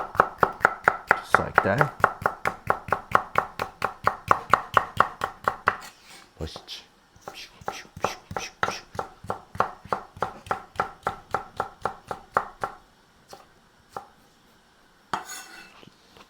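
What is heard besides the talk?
chopping green pepper with a knife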